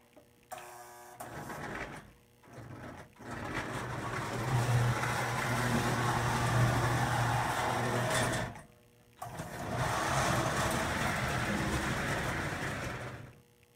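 A Lionel postwar 456 coal ramp model train set running, a steady mechanical whir and rattle of a small electric motor on track, stopping briefly then resuming, close and fairly loud with no talking.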